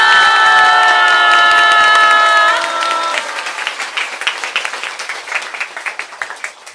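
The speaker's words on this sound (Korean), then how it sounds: "유튜브를 보고 계신 모든 분들께서도 힘찬 박수로 아련해 주십시오" Loud applause and cheering from a crowd at a Korean lecture event, dense and sustained at first, then thinning into scattered, uneven clapping toward the end.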